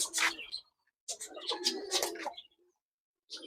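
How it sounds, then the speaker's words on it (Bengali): Pigeons in a breeding loft, rows of birds perched together, give soft cooing and chirping calls in short bursts separated by quiet gaps, close by and fairly faint. "কবুতরগুলো এই যে সারি সারিভাবে বসে আছে দেখেন"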